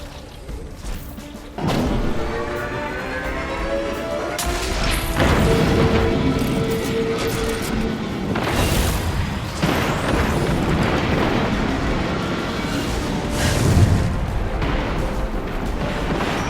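Heavy explosions from Destiny 2: Lightfall weapons blast enemy tanks, layered with booms, crashes and thuds. The bursts come in repeated waves over a dense, loud game soundscape, with no talk in between.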